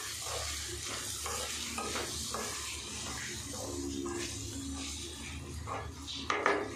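A spiced mixture frying in a pan on the stove gets stirred with a spoon, giving soft, close scraping strokes over a quiet, steady sizzle, ending in a louder clink.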